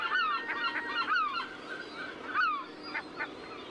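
Herring gulls call loudly during a territorial display at a breeding colony, repeated harsh descending cries overlapping one another, with a steady din of other birds behind them.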